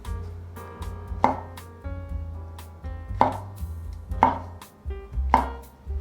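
A kitchen knife dices shiitake mushrooms on a cutting board, giving four or five separate sharp chops spaced about a second apart over a low background hum, close and fairly quiet.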